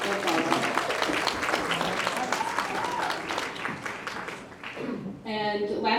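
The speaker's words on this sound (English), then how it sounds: "So if we can do a big round of applause for Betsy, that's all." Steady audience applause at a community fall prevention event, a dense wash of many hands clapping for about five seconds, then a brief dip before a voice cuts in near the end.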